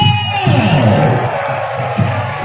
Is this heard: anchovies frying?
no